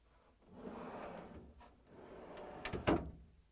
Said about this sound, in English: And now I'm going to pull out the drawer.